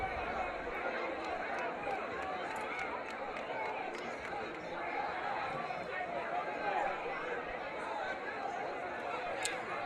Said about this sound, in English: Crowd's getting noisy now